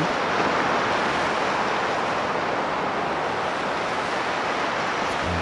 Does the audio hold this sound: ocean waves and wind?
yes